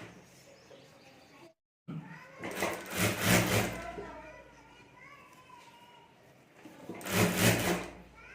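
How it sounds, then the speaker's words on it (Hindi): A home sewing machine stitching folded fabric over a rubber sheet for a clutch bag strip. Two loud bursts of rapid machine running, the first after a brief silence and the second near the end, with quieter handling sounds between them. "और अब यहाँ ऊपर हमें सिलाई कर देनी है।"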